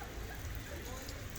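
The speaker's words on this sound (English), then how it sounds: "Stuck in the rain" Rain falls steadily in Krakow, Poland, a dense even hiss of drops on surfaces throughout, fairly close and unbroken.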